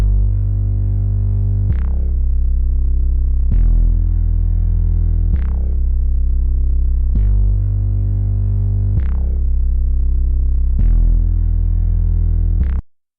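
An ambient trap beat made in FL Studio, with a heavy distorted bass layer shaped by a wave shaper and distortion, pulsing in a steady repeating pattern with sharp attacks about every two seconds and no talking.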